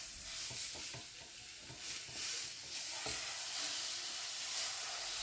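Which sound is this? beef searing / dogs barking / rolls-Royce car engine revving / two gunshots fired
beef searing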